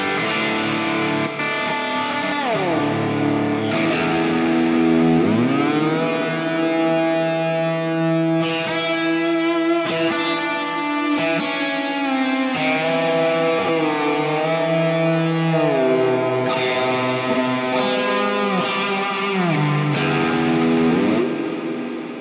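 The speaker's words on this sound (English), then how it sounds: "I wanted a really big ambient reverb." Distorted electric guitar through a Zoom G6 multi-effects processor plays sustained chords and bending notes, drenched in a huge washy ambient reverb that blurs each note into the next.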